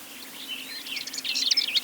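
Wild birds sing in a nature area of broom heathland at Ploufragan, with several chirping, warbling voices that grow busier and louder toward the end over a faint low hum.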